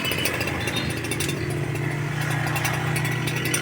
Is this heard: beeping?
no